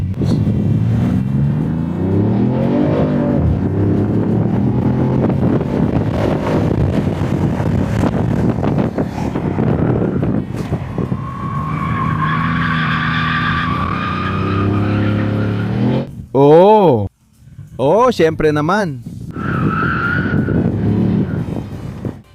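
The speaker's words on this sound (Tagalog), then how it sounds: "Dito ang bagong Dodge Charger N Bank. Isa itong inline na 6 na silindro na may 2 turbo." A new Dodge Charger with a twin-turbo inline six-cylinder at a car auction lot roars and revs, then tires squeal and skid in sharp bursts near the end, loud and close. A brief spoken reply comes through.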